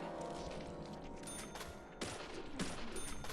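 Rapid gunfire bursts from the horror video game Deadly Premonition, loud and dense throughout, with sharper blasts near the two- and two-and-a-half-second marks.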